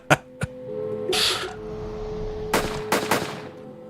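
Sharp, loud pistol cracks fired at a signal jammer in NORCO, a couple of quick shots at the start, then a hissing burst and a further cluster of close reports, no talking.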